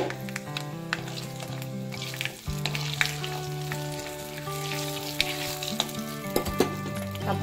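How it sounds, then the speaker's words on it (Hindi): Whole spices for a tadka hit hot oil and sizzle loudly and steadily at close range, with brief clinks and a few sharper crackles as they fry, and no talking. "तो अब इसमें मैं डालती हूँ ये तड़का।"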